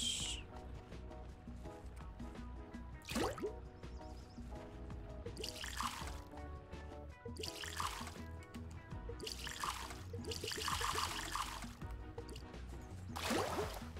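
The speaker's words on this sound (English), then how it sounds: "Either fill the watering can from the river" Water trickles and pours as a watering can is filled from a river in the video game Soda Story Brewing Tycoon, faint and intermittent beneath steady game music.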